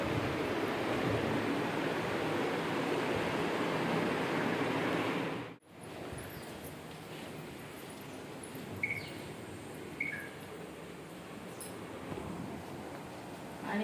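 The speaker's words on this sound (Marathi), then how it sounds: "समुद्राचा वारा तर आहे जिकडे झाडे आहे मस्त माडाची सुंदर समुद्र किनारा दिसतोय" Sea waves and wind on a beach lined with coconut palms at the Sagunatara beach homestay, a steady broad rushing roar that softens halfway through, with no one speaking.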